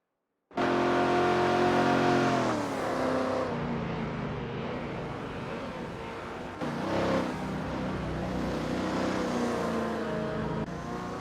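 AI-driven supercars, Dodges among them, race around Weatherfield Speedway in a video game. A loud, continuous engine roar with wavering pitch fills the whole stretch, swelling briefly partway through, with no voices.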